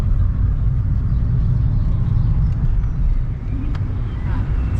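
Steady low road rumble and engine drone from a car driving along a road in northern Italy, continuous and close throughout, with a faint brief knock near the end.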